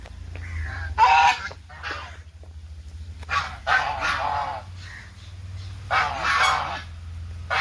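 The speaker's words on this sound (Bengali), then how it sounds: "চার পাঁচটা হাঁস আছে" Four or five ducks near a pond honking in several loud bursts of harsh, nasal calls separated by short pauses, close by, over a low background hum.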